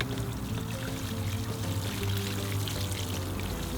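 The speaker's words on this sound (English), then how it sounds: "I'm going to give them a good drink of the compost tea and water them in really good" Compost tea poured steadily over tomato plants in a garden bed, a continuous close pouring rush that lasts throughout with no pauses and no talking.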